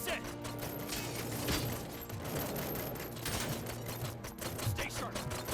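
Dense, rapid gunfire from the video game RoboCop: Rogue City rattles on continuously in sustained bursts, with voices speaking over the shooting.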